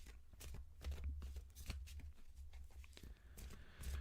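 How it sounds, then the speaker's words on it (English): Large tarot cards being shuffled in quick, repeated papery riffles and slaps, close by with a low background hum. "I'm shuffling the cards. You can probably hear me shuffling."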